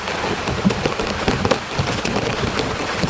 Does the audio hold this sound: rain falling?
yes